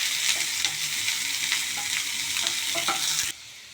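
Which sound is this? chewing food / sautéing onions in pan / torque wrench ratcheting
sautéing onions in pan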